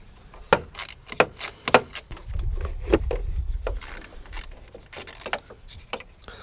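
Ratchet clicks and metallic knocks from loosening bolts under the hood of a Volkswagen MK6 during a cold air intake install, sharp intermittent snaps over a low rumble, close up.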